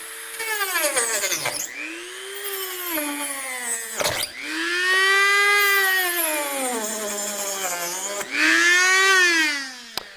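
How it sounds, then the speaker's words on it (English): A rotary tool fitted with a mini saw blade cuts into a piece of wood, its high motor whine rising and dipping in pitch as the blade bogs and recovers through three long passes, loud and close. "When you're cutting with the wood, it goes pretty quick."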